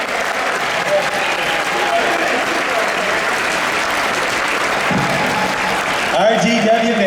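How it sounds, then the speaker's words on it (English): A crowd claps and cheers in sustained applause throughout, loud and close, at a Police Academy cast panel, with a voice calling out over it near the end. "a round of applause! GW Bailey!"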